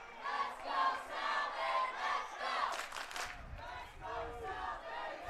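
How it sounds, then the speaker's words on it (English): A large home crowd at a college men's soccer match, Salve Regina versus Johnson & Wales, with many voices chanting and shouting together in rhythmic surges, sustained and somewhat distant. "Large crowd here for the Seahawks, bolstered by the arrival of the class of 2025 on hand to cheer on the Seahawks."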